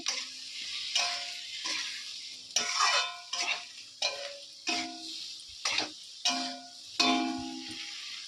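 Brinjal and potato with spices are sautéed in a pan, with a series of distinct spatula scrapes and stirring strokes, each bringing a short burst of sizzling, close up and without talk.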